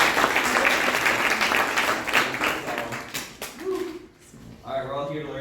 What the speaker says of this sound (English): Give a round of applause for Bo.